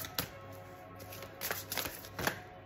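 Large, oversized tarot cards being shuffled in several quick riffling bursts, close and quiet, with brief pauses between.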